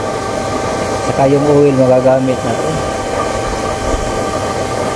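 A small 12-volt, roughly 2-amp blower feeding a used-oil stove hums steadily underneath, with someone speaking over it.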